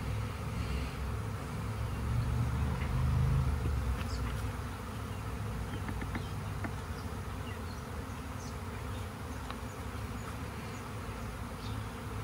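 A swarm of honey bees buzzes at a hive whose bees have settled under the bottom board: a dense, continuous drone from many insects close by, steady throughout with faint knocks of hive equipment.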